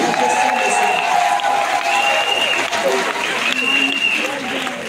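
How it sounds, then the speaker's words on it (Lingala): An audience breaks into sustained, loud applause, with dense clapping filling the space and a faint cheer or two, tapering slightly toward the end. "Bobeta maboko makasi"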